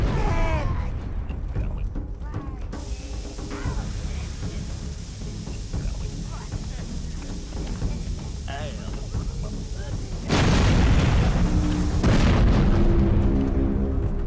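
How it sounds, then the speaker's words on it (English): Bomb explosions in the Overlord video game burst and boom repeatedly amid clattering, creaking game effects, with a louder blast near the end; a voice is heard over the action. "Bomb."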